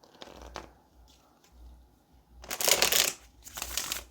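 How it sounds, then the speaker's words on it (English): A deck of tarot cards is shuffled by hand at close range, soft riffling bursts early on giving way to louder, crisp flurries of cards slapping and fanning together in uneven rhythm. "Let's go ahead and shuffle some more"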